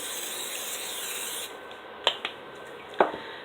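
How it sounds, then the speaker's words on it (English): A steady hissing spray of cooking spray onto a pan runs for about a second and a half, then stops, followed by a few light clicks and taps nearby. "So all I'm going to do first is spray my pan."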